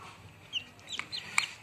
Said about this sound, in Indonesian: anak ayam ini adalah bukan ayam kampung tapi ayam ayam KT